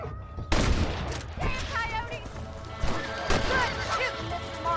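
Rapid gunfire volleys in the western video game Red Dead Redemption, loud sharp shots cracking in overlapping bursts throughout, with players talking over the shooting.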